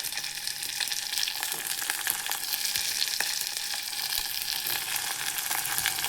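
Vegetables and ground masala paste of cardamom, clove, ginger and coriander leaves fry steadily in a pan for fish curry, giving a continuous close sizzle with occasional stirring scrapes, no talking.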